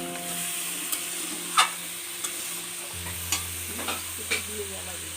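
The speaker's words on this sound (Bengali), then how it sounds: "ওইদিকে আমাদের কড়াইতে মাংস রান্না হচ্ছে" Chicken pieces sizzle steadily in a kadai while a spoon scrapes and taps the pan every second or so, close up, with a low steady hum joining in midway.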